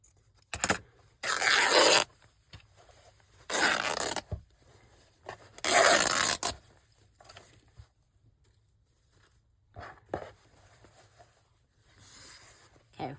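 Scissors cutting through the material of a garden binder cover, several separate rasping snips in short bursts with quiet gaps between, close and fairly loud, with a brief soft voice in between.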